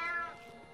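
A cat's meow in a French audiobook of the Grimm tale of the Bremen town musicians: one short, close meow that trails off, with no speech over it.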